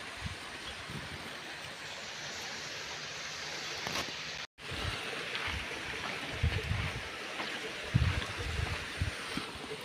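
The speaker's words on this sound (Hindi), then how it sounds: "ये झरना है मोनी बाबा का।" A waterfall near the Mouni Baba cave in Rishikesh rushes as a steady broadband roar, with a brief dropout midway and some faint nearby thumps and handling noise.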